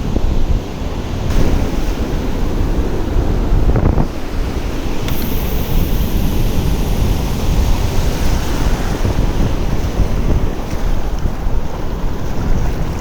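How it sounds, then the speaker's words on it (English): Steady wind blows at a seashore, a loud continuous rush of gusts buffeting the microphone with surf mixed in, unbroken for the whole stretch and with no voices. "the wind did pick up"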